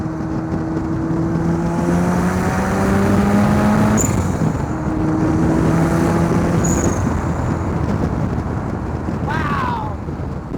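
A home-built Lotus 7 replica roadster with a 400 hp turbocharged RX7 rotary engine being driven hard, a loud droning engine note rising and falling through gear changes with a brief whistle, and people talking over it.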